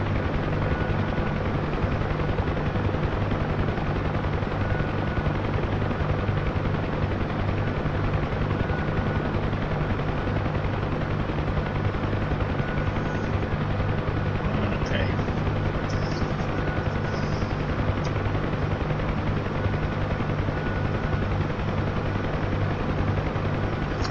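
A Huey helicopter in a flight video game drones loud and constant with a steady rotor thump, orbiting an airfield; the roar holds unbroken throughout with no pauses.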